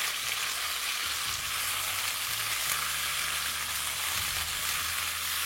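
Cauliflower florets fry in hot oil over a medium-high flame with a loud, dense, continuous hiss and crackle. A low background hum runs underneath, and no one speaks.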